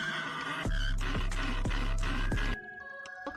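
A horse neighs loudly in a rhythmic series of harsh bursts with repeated sharp pulses, then stops abruptly. A thin sustained tone and faint clicks follow in the quieter tail, with no talking.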